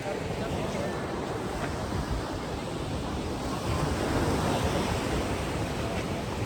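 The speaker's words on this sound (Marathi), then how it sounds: "आम्ही आलो आता क्रिस्टल बे बीचला" Steady broadband wash of ocean surf at Crystal Bay beach on Nusa Penida island in Bali, a continuous roar of waves with some wind buffeting the microphone, with no clear breaking rhythm.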